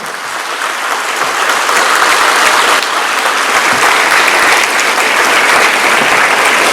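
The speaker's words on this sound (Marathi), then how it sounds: "हात वर करून जोरात टाळ्या वाजवा" An audience at a motivational talk claps loudly with raised hands. The applause swells after the first second into a sustained, dense roar of many hands that stays strong to the end.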